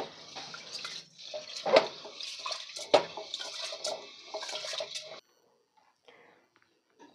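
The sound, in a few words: washing rice in running water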